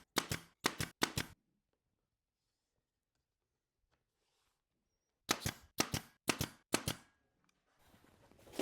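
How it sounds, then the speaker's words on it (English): Pin nailer driving small pin nails into a wooden storm window frame: a quick group of three sharp snaps, a long quiet gap, then four more snaps in a row, followed by faint handling noise. "these are just little pin nails, making sure I don't blow through the front of the frame"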